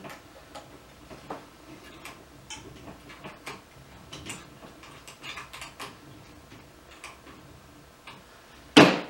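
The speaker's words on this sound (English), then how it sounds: "We'll snug it down with a box wrench." A box wrench snugs down a plastic hose fitting on a reverse osmosis kit with a series of small irregular ticks and ratcheting clicks, ending in a sharper louder knock.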